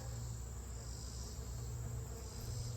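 Honeybees at a hive bringing in pollen, a dense continuous buzz with a high steady whine, close and unbroken throughout, with no voices.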